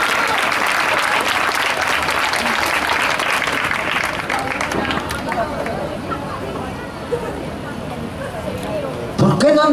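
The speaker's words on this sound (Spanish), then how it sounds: "Vamos ya, aplaudir" An audience at a live concert of romantic song claps loudly and steadily, the applause thinning a little toward the end with some crowd murmur.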